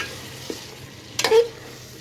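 Mutton with chopped tomatoes sautéing in a pot over a wood fire, a soft steady sizzle with one brief clatter of a spoon stirring near the end, close by and with no talking.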